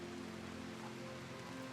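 Rain in the video game Rimworld plays as a faint, steady, even hiss with a low hum beneath it, continuous and without distinct drops.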